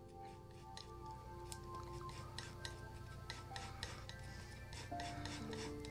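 Oil paint mixed with white on a palette, a soft steady rubbing and squishing of knife or brush through thick paint, close and continuous with faint tonal hum underneath.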